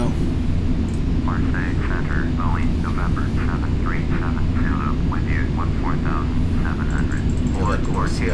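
Airliner engines spool down during descent in Microsoft Flight Simulator X on a Paris Orly to Nice flight, a steady loud drone that fills the whole stretch while a voice speaks over it.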